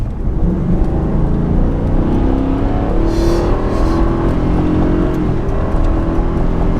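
A diesel pickup truck accelerates from 30 with a steady rising whir and roar, heard from inside the cabin, loud and continuous with no talking.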